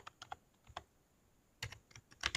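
Typing of a club name on a keyboard, in scattered bursts of quiet keystrokes with a pause in the middle and a denser flurry at the end.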